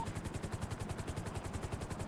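A police helicopter hovers overhead in a GTA roleplay game, its rotor thumping in a steady fast pulse with a constant engine whine, loud and close, with no talk.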